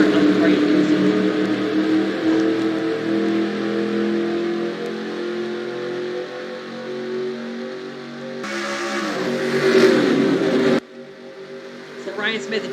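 A pack of stock cars rolls away at the start of a Daytona race in the NASCAR Racing 2003 video game. The engines make a steady, layered roar that swells near the end, with a commentator talking over it.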